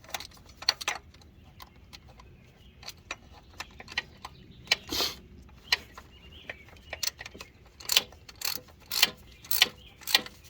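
A 12mm bolt is fitted on a Honda Accord 2.4L starter, with scattered close metallic clicks and ratcheting ticks in irregular bursts against a quiet background.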